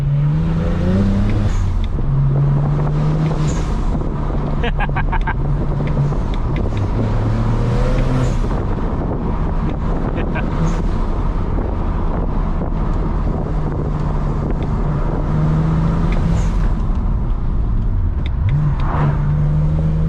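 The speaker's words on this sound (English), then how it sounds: "just cruising in a high gear, bunch of torque, comfortable" A BMW 335i cruises on a motorway in a high gear, its engine holding a steady low drone with slight pitch shifts over constant wind and road noise, close and loud throughout with no talking.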